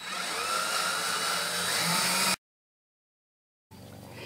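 A South Bend lathe runs with its power crossfeed and clutch engaged, giving a steady mechanical whir that cuts to silence for over a second and then starts up again.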